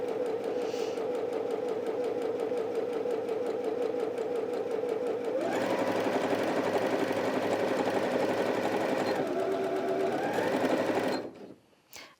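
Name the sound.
Janome 360DC sewing machine stitching at medium speed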